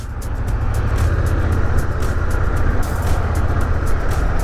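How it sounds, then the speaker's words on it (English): Dense car and truck traffic rolls through a busy old town center on a warm day, a continuous close roar with passing vehicles swelling and fading and no voices. "Lots of cars."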